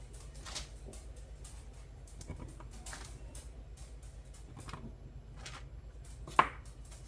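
A biscuit cutter presses straight down through biscuit dough in a home kitchen, giving a series of soft, close thumps and taps at irregular intervals, with one sharper knock near the end and no talking.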